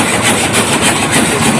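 A moong (green gram) grading machine runs steadily at harvest time, giving a loud, continuous mechanical rumble and rattle with no pauses and no voices.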